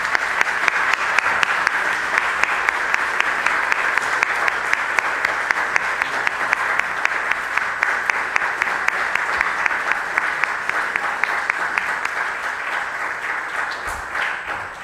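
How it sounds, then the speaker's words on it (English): A congregation in a church applauds its clergy team, many hands clapping in a loud, sustained, even roar for about fifteen seconds, with a few sharper claps standing out near the end. "Can we please stand up and applaud our thanks to this amazing clergy team here at St."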